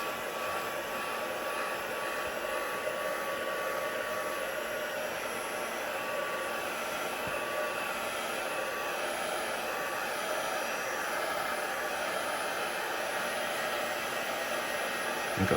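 A hair dryer blows steadily and loudly at close range while drying a gel-printed card, a constant unbroken whoosh with no talking.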